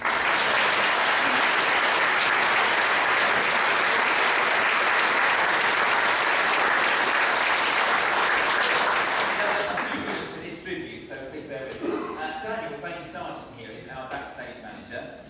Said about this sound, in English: So I think just a quick round of applause.